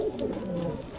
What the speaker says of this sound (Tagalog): Ito yung ibon na binitaw natin sa BBCM.